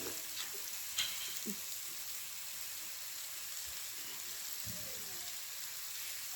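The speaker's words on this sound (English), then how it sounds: "all we're going to do is just kind of brown this meat a little" Meat browning lightly in a hot pan for a slow-cooker Irish stew, a steady soft sizzle and crackle running throughout with a few faint clicks and stirring knocks, fairly quiet and with no voices.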